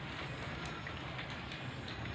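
Rain falls steadily through the night, a dense, even hiss close by that fills the whole stretch without a break or any voices.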